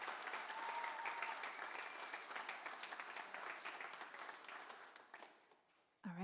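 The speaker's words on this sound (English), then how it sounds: "give one more round of applause for all of our second letter recipients" Applause from the audience at a high school spring choir concert, dense steady clapping from a crowd that gradually thins and fades out, followed by a brief voice at the end.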